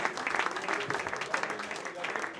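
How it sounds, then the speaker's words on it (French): An audience applauds steadily through a prize-giving ceremony, a dense patter of many hands holding at moderate loudness, with a voice faintly audible underneath. "on va les applaudir très fort"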